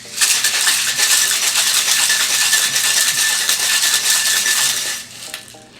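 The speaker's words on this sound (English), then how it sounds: "give a nice little whack, and then whip shake" A cocktail shaker holding a pineapple juice and falernum drink rattles hard in a steady whip shake, a loud unbroken clatter of ice lasting about five seconds before it tapers off.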